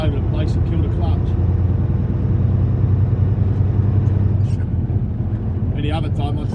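A truck engine pulling off, heard as a loud, steady low drone close by with someone talking over it throughout; no distinct gear change stands out.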